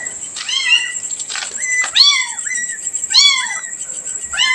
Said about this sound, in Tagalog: Mga pusa dito, oh.